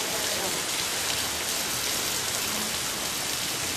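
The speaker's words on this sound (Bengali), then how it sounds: "বৃষ্টি তো এখনো হচ্ছে" Steady rain falls throughout, a dense even hiss of drops on surfaces with no pauses or thunder, close and moderately loud with no voices.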